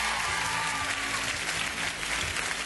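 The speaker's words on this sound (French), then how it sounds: "vous pouvez les applaudir" A TV game show studio audience claps in dense, steady applause that runs evenly through the clip with no break.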